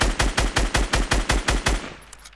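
Rapid automatic gunfire in Fortnite Battle Royale, about nine evenly spaced loud shots in a burst lasting under two seconds, then a short fading tail with no talk.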